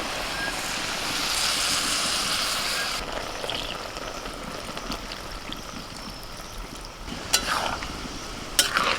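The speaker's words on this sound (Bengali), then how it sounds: "জল ঢেলে দিচ্ছি" Water pours into a cooking pan while fish with pumpkin greens is being cooked: a steady, close rushing splash that shifts partway through, followed by a couple of sharp clinks near the end, with no talking.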